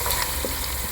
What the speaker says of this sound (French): laisser nos oignons bien frire